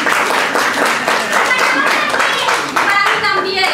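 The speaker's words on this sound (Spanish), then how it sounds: "fuerte el aplauso para Bartolo." A small group claps steadily, brisk and close, with a voice or two faintly mixed in beneath the applause.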